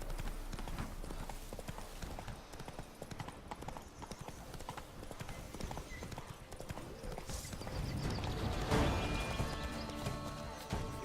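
Hooves of a demon horse in The Witcher 3 video game clip-clop in a steady, fast rhythm across the ground, close and clear, with ambient game sounds behind.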